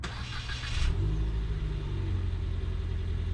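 A 2019 Ford Fiesta engine idles with a deep, steady rumble close by, briefly revving near the start before settling into a low continuous hum.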